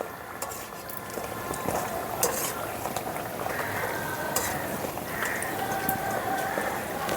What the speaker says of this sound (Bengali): বেগুনিগুলো ভাজার সময় গ্যাসের ফ্লেমটা হাই রেখে বেগুনিগুলো ভাজতে হবে।